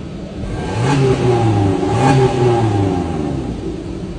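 A modified Suzuki Jimny engine revs up twice in quick succession, rising and falling loudly with a throaty rumble between the bursts.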